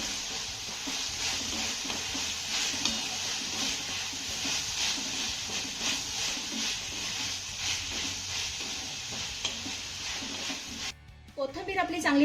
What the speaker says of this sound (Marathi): ही घातलेली कोथंबीर देखील आपल्याला एक मिनिटभर चांगली परतून घ्यायची आहे